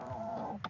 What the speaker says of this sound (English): This chicken, this is Mama Hen